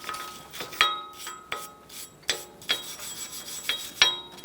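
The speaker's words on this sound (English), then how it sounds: "You can use a wire brush." A wire brush scrubs rust and buildup off a Ford Focus front wheel hub in short, rough rasping strokes, about a dozen close, sharp scrapes with faint metallic clinks and no talk.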